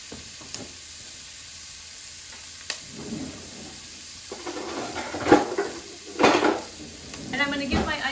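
Onions sizzle in a pot of hot oil for a homemade butternut squash soup, a steady frying hiss broken by clanks and scrapes of a utensil against the pot, growing busier toward the end.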